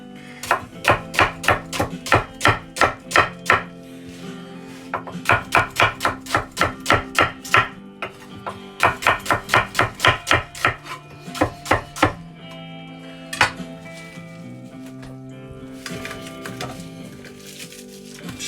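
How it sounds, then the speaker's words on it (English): Knife roughly slicing food on a cutting board for a BBQ sauce base: loud, crisp, evenly paced knocks in several fast bursts with short pauses between them, close up and without talk. "I'm just going to slice it roughly, not too thin."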